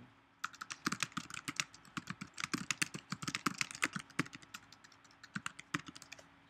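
Keys clatter on a computer keyboard in quick, irregular bursts of typing, close and fairly quiet, with short pauses between runs of keystrokes.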